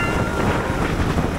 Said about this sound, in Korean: 와, 바람 장난